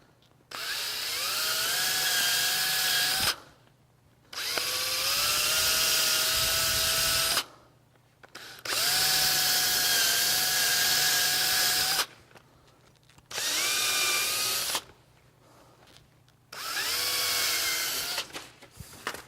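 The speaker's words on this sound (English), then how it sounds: "Make sure when you're drilling it, you get good penetration through there" A power drill whirs in five long bursts, each spinning up with a rising whine, separated by short pauses of quiet.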